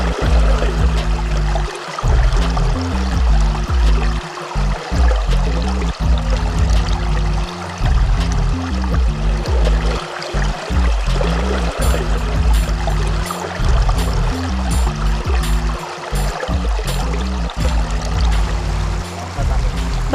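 A healthy river in Yogyakarta's Code River valley rushes steadily over a rocky bed, a loud, continuous wash of churning water filling the whole stretch with no pauses.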